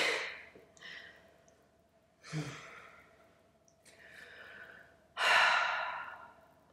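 Breathing during a guided relaxation exercise: several audible breaths and sighs spaced a second or two apart, close and fairly soft, with one stronger exhale near the end and no speech.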